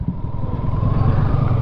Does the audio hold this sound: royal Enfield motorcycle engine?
yes